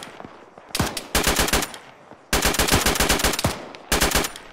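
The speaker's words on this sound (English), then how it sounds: "I'm shooting way distant contacts" Automatic machine gun fire in a military shooter video game, several loud rapid bursts of close shots separated by short pauses, no talking.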